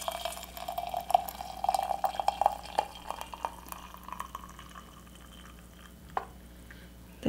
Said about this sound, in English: I'm going to add my freshly boiled water